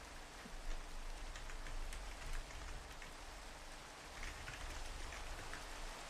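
Steady rain in the video game Minecraft, a dense continuous hiss of falling drops at an even level throughout, with no voices over it.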